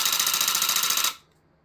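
Handheld rug tufting gun running on its low speed setting, a close, fast rhythmic mechanical chatter of needle and scissors that runs steadily for about a second before stopping abruptly.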